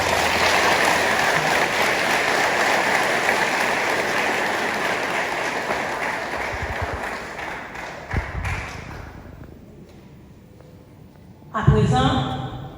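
Graduation ceremony audience applauding, a broad wash of clapping that slowly fades out, followed by a brief burst of sound near the end.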